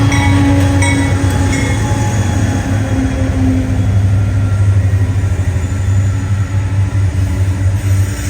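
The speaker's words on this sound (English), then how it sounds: "train clears the signal bridge and blows over the diamonds of Tower 55" A freight train of shipping containers rolls over the railroad diamonds at Tower 55 with a loud, steady, close rumble and rattling wheel noise throughout.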